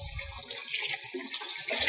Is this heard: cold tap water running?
yes